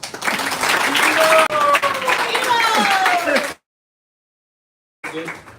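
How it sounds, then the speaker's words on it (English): Audience round of applause at a Hare Krishna spiritual gathering, dense clapping with whoops and voices mixed in, cutting to silence, then resuming briefly. "Round of applause."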